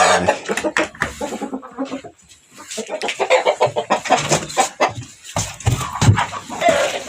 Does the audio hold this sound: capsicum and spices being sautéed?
no